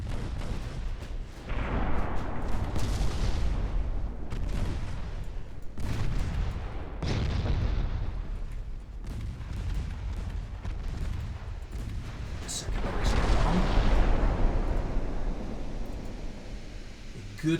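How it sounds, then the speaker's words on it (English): Naval guns firing in the warship game Ultimate Admiral Dreadnoughts, including secondary batteries, with repeated heavy booms and rumbling blasts arriving every couple of seconds across a noisy battle backdrop. "And my secondary guns are opening up, especially in Santiago here."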